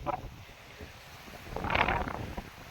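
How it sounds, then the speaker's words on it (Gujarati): Strong wind gusts across an open village farm field under gathering rain clouds, rushing and buffeting close against the microphone and swelling loudest in the middle of the clip, with no talking. "પવન ચૂસવાટા મારે"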